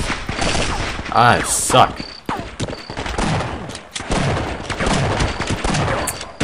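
Rapid gunfire in the Half-Life mod They Hunger, a zombie shooter: dense bursts of loud, close shots and echoing booms fill the clip, while someone talks briefly over them.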